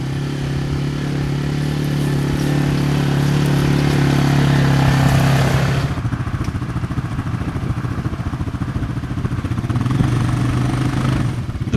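A TGB Blade 550 quad bike runs in two-wheel drive, its engine holding a steady drone with a clear tone that drops abruptly midway and settles into a rougher, clattering idle.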